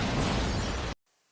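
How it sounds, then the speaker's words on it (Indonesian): A van blows up in a drama scene: one loud, dense blast held for about a second, then cut off sharply into near silence. "beberapa saat kemudian mobil van yang membawa Kimbon meledak"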